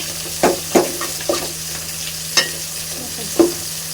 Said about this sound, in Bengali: এখন আমি শাকগুলো ভালো করে সিদ্ধ করে নিই